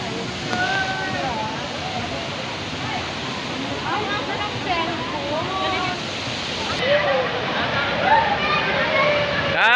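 Waterfall at a natural spring resort, a steady broadband roar of rushing water throughout, with people talking and shouting over it.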